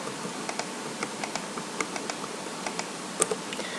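Numbers being typed on a computer keyboard while entering regression data: a steady run of light, close keystroke clicks with irregular rhythm and one sharper tap near the end, no voices.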